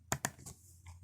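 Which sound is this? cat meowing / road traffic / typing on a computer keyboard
typing on a computer keyboard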